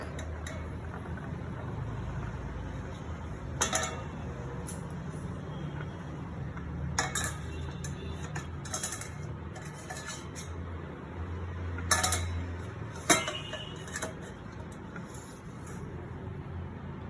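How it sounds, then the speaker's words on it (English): At home, the metal lid of a cooking pot holding bacterial growth medium is opened after heating, giving scattered metallic clinks and clanks over a low, steady background hum. "I'll open the lid and check"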